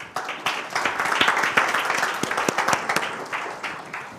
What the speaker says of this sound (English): A big hand of applause for Taha and for Beem.